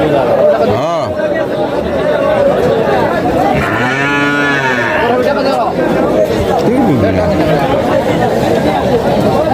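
Cattle low repeatedly amid a busy crowd at a cattle, buffalo and goat market in Kapasia, Bangladesh, one long deep moo standing out over constant chatter and babble.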